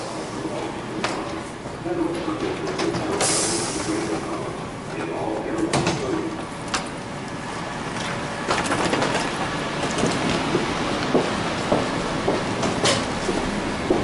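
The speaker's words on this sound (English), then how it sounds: "Train's here." A JFK AirTrain pulls into the station with rumbling, clattering wheels and squealing brakes, doors slide, and voices talk nearby over the station din.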